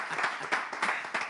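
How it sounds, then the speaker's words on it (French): Brief applause for dancers at a live music event, a few loud separate claps in quick succession. "On les applaudit"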